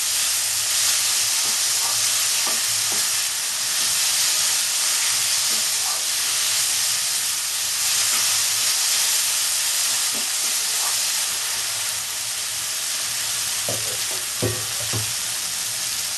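Egg curry masala with tomato fries loudly in a pan, a steady dense sizzle and hiss with occasional scrapes and knocks of stirring, close and continuous with no voices.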